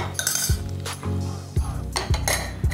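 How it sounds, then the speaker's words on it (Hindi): A metal lid goes onto a pot of tadka dal on a home stove with the gas turned off, giving several sharp clanks and clinks of metal on metal, close up and fairly loud, with no talk over them. "ढक्कन लगा देंगे।"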